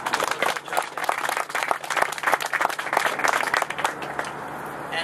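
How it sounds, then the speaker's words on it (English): An audience applauds an EPA team at a community event marking a $25 million cleanup of sports fields in Gloucester City, New Jersey, with dense, steady clapping from a crowd that holds for about five seconds before thinning slightly. "I hope you join me in a round of applause for this EPA team."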